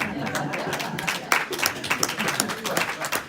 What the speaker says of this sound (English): Let's applaud for working together with people you disagree with.